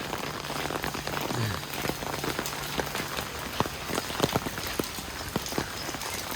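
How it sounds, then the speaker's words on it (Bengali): Steady rain patters on a surface, with scattered sharper drops tapping through the soft, continuous hiss. "বৃষ্টি পড়তেছে, আমি জানি না আপনারা দেখতে পারতেছেন কিনা।"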